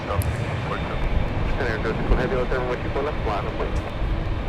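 A departing airliner rolls for takeoff from runway 24 left at LAX, its steady engine roar heard from a distance beneath continuous talking.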